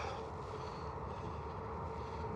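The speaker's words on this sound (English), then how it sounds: "There's the train." A low, steady rumble of a train rolling in, heavy and continuous, heard from a moderate distance.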